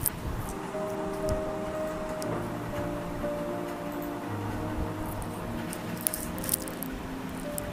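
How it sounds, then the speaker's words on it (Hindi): Mustard seeds dropped into hot oil in a kadhai, giving a steady crackle of tiny pops and spatters that runs throughout, with a faint tonal hum in the background. "कढ़ाई में तेल ऐड करिए और इसमें थोड़ी राई डालना है"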